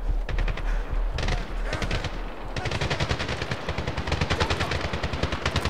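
Enemy machine-gun fire in the Medal of Honor video game, rapid rhythmic bursts of close, loud shots, a short pause, then a long sustained stream of steady rounds.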